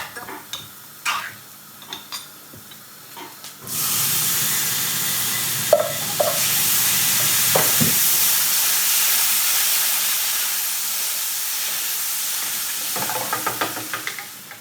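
Chopped tomatoes for shakshuka hit a hot pan with a sudden loud, sustained sizzle and hiss, preceded by a few light clinks and followed by faint stirring scrapes, close and without talk.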